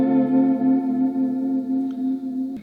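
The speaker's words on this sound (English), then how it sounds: "And then the next pedal I'm going to use is a chorus." Sustained electric guitar chord shimmering through a chorus pedal, held steady and moderately loud with faint pick noise, then a sudden strum near the end.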